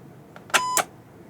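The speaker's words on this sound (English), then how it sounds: "I hit the start button and it made a beep and the whole thing just shut off." A portable air compressor gives a short electronic beep once on pressing start, then shuts off and falls quiet.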